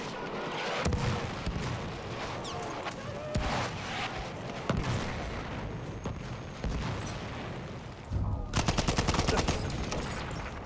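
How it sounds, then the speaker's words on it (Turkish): Enemy machine gun fire in Battlefield 1 crackles in repeated bursts amid battlefield booms, ending in a loud rapid rattling burst near the close. "Düşman makinalı tüfeği."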